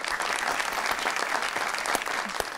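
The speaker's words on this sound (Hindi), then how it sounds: "तालियां" A studio audience at a Pakistani TV talk show claps, a lively burst of applause with sharp individual claps standing out, close and steady throughout.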